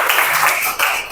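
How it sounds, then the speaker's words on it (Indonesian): A classroom of students applauding a group presentation, brief dense clapping that is loud and close, filling the short moment with bright crackling noise. "tepuk tangan dulu."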